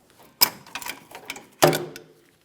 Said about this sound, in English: we'll use a 17mm socket to remove the nut